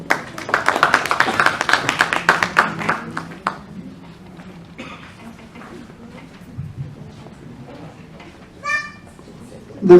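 At an academic awards ceremony, a small audience breaks into scattered, moderately loud clapping for a few seconds, then the room falls quieter with faint voices and occasional taps.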